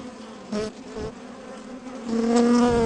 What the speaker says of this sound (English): that one bee doesn't sound really happy to have the camera on his back